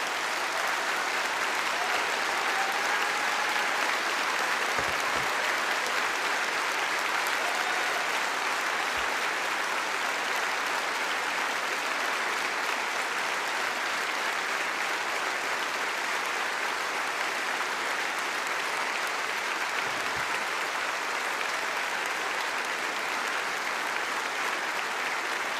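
A conference hall audience applauds NHS staff with steady, dense clapping that holds at full strength for the whole stretch, a broad wash of hands with no speech over it.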